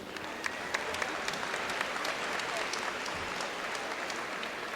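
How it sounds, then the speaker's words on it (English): A university commencement audience at Fort Valley State University applauds in a steady, even roar of many hands, heard from a distance and sustained without a break, with scattered sharper claps standing out from the crowd. "Now a round of applause for the Crumblies, please."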